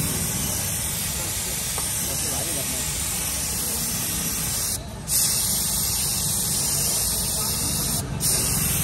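Restoration solution is sprayed onto an old, faded car headlight in a continuous loud hiss that runs several seconds, breaks off briefly twice, and resumes close to the listener.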